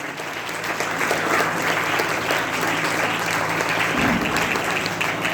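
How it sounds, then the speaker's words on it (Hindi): Sustained applause from a parish community gathering at St. Elizabeth parish, steady and dense for the whole stretch with a low hum beneath and a few voices mixed in. "तालियां दो।"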